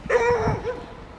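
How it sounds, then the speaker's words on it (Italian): A stray dog on the streets of Skopje, Macedonia gives a single short, yelping bark with a whiny tone, close by and fairly loud, with no talk over it. "cani randagi ovunque, poretti"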